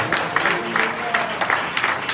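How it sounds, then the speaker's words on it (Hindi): A church congregation at a live prayer service claps in unison, a steady rhythmic beat of many hands repeating at a quick even pace, moderately loud and close. "जरा कलामे मुकद्दस की अकीदत के लिए जोरदार ताली"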